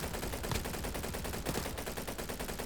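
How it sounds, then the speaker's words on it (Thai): A gun fired at a wall in the Roblox video game, letting off a continuous rapid burst of shots in a steady automatic rattle, fairly quiet, with no voices. "ผมอยากยิงใส่กำแพง"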